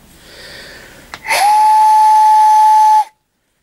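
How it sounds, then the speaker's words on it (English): A small steam whistle from a toolbox is blown once after a brief click and hiss, giving a loud, steady, near whistle that holds for about two seconds, then cuts off into silence. "It's a steam whistle."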